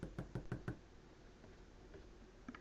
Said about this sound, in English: You knock,